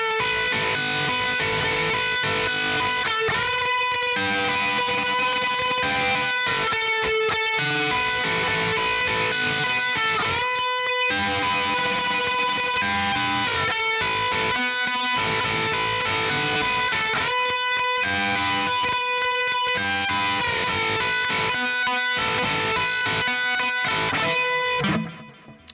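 Electric guitar playing repeated string bends through heavy distortion with delay, loud and dense for the whole stretch, sustained wailing notes echoing into each other before cutting off at the end.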